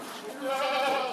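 Goats bleat from inside their pen on a farm, several wavering cries close by and overlapping, with a louder stretch in the second half.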